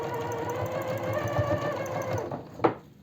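A sewing machine stitches a lace cardigan with a steady, rapid mechanical whir that runs for most of the clip, then slows and ends with a short clack.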